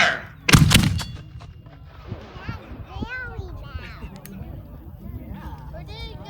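A Civil War re-enactment mortar fires once with a sharp, heavy boom, followed by outdoor crowd chatter and voices.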